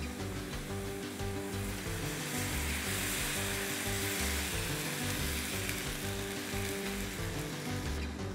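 Steady, dense sizzling of milk poured into a cooking flour roux in a pan, a continuous frying hiss with faint stirring, close and even throughout with no talking.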